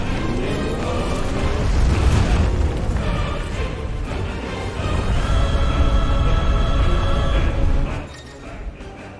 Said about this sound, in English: Hold and release R2 plus square to emit a violent explosion